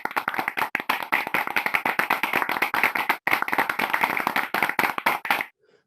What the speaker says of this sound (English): you see we generate applause sound here in the middle